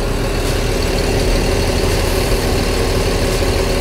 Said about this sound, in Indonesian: Suara mesinnya nih.